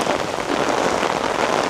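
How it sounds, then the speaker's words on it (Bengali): Heavy rain pours down steadily during a thunderstorm season downpour, a dense continuous hiss of drops striking surfaces, loud and unbroken with no voices. "প্রচুর প্রচুর বৃষ্টি হচ্ছে"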